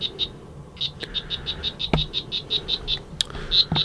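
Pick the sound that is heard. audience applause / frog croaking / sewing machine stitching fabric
frog croaking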